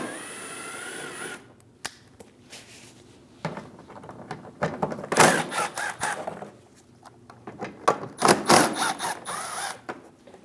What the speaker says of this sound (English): Using a 7mm socket, we're going to remove the 3 bolts inside our inner fender liner.